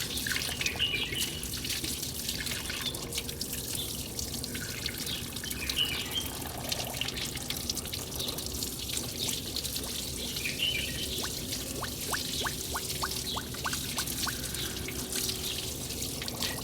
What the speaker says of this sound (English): It is empty, so it is taking much water.